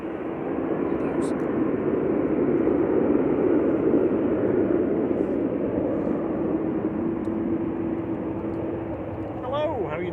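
A Ryanair Boeing 737-800 departs Manchester Airport for Dublin, its engine roar loud and sustained with a droning tone that eases slightly toward the end, while people talk over it.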